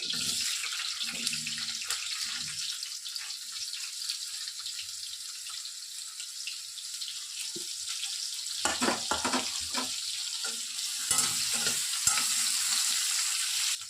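Cauliflower florets fry in hot oil for a spicy Andhra vepudu, a steady loud sizzle with bubbling and occasional stirring scrapes and clatter close by.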